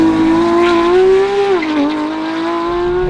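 A Porsche 911 GT3, naturally aspirated and rear-wheel drive, launching hard with a loud, close engine note that climbs steadily, dips briefly at a shift, then pulls again, with no voices.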